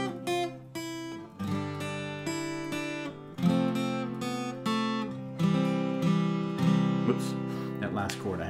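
Acoustic guitar picks a melody over strummed chords, notes ringing and overlapping in a steady, unhurried rhythm, close and clear with no talking.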